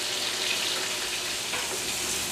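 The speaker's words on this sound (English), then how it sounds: "these last bits of chicken are just finished frying on their second side." Pieces of chicken fry in hot oil in a pan, giving a dense, steady sizzle and crackle that holds evenly throughout with no voices.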